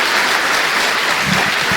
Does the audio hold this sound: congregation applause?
yes